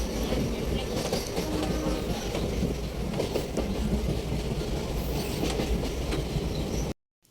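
A passenger train runs on rails toward Tarakeswar with a steady, loud rumble and rattling wheel noise, ending abruptly in silence.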